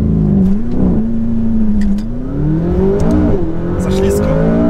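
A McLaren 570S sports car accelerates, its engine note climbing and swelling loudly, easing briefly, then rising again, with a voice heard faintly alongside.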